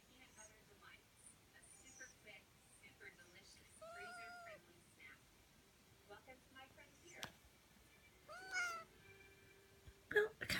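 A cat meows and yowls excitedly over French pastries, giving several rising and falling cries of varying length and loudness, mostly close, with brief sharp noises near the end.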